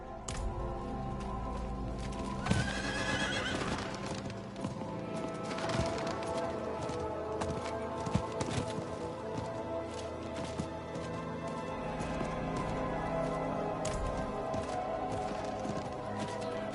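Horse hooves clip-clop in Diablo IV amid game noise, with a brief whinny-like burst near the start and scattered sharp impacts, sounding steady and fairly close throughout.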